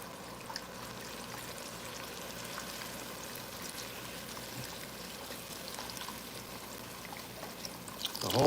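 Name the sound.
pouring broth into a pot for lasagna soup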